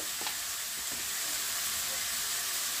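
Mushrooms for champignons à la grecque sizzle in a hot pan while being seasoned with pepper and salt and stirred, a dense, steady hiss with a few faint scrapes, close and uninterrupted.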